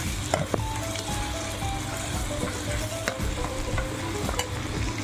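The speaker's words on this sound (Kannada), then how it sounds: "ನೆಕ್ಸ್ಟು ಎಗ್ ಫ್ರೈ ಮಾಡಿರ್ತೀವಲ್ವ ಅದನ್ನು ಮಿಕ್ಸ್ ಮಾಡ್ಕೊಳ್ಳಿ" Fried egg mixture is stirred in a sizzling pan, with a steady frying hiss throughout and scraping and stirring strokes repeating over it.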